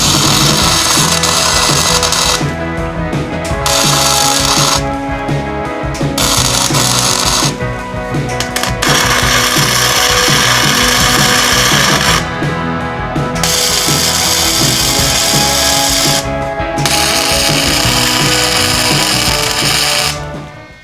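A welder lays tack welds on stiffeners for a Jeep Cherokee XJ unibody frame, a loud continuous crackling buzz up close that breaks off briefly several times between tacks.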